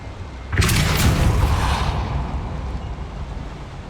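Depulso spell effect in Hogwarts Legacy: one sudden loud whooshing blast that swells quickly and then fades into a long, low rumbling tail.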